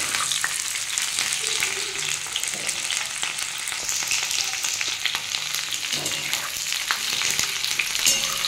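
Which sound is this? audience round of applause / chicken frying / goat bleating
chicken frying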